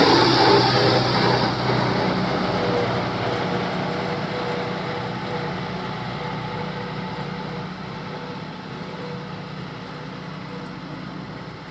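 A tractor engine runs steadily while preparing farmland in a field, a continuous mid-distance hum that fades slightly over time, with no voices.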